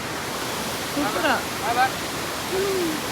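The Smoo Cave waterfall at Durness gives a steady, broad rush of falling water throughout, with people speaking briefly over it.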